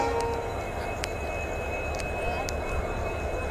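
An express train stands at a railway station platform, giving a steady, loud low rumble and hum with faint tonal whines and a few sharp clicks over continuous station ambience.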